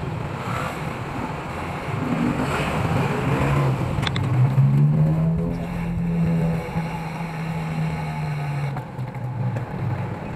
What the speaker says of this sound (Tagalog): Dito na yung traffic.